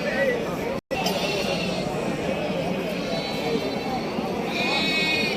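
Bandur sheep rams bleat on a farm. Their calls mix into a busy flock with steady background chatter and voices close by.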